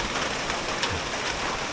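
Midday rain falls steadily outdoors, a dense even hiss of drops on surfaces that is close and continuous, with no voices.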